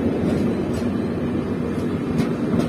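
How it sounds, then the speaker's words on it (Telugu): The New Delhi–Bengaluru Karnataka Express rolls past with a heavy, continuous low rumble and rattle of moving coaches, loud and steady throughout, with no speech. "ఇదే న్యూఢిల్లీ బెంగళూరు కర్ణాటక ఎక్స్ప్రెస్."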